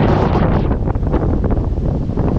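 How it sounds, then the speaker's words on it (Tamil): Strong, storm-like wind roars across an exposed rocky hilltop, buffeting the microphone in a loud, continuous rush with gusty surges and no pauses. "புயல் மாதிரி அடிக்குது"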